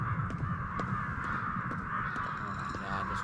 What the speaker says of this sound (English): Oh my god, those crows are so loud.